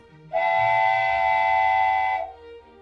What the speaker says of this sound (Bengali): ট্রেনের বাঁশি বাজল।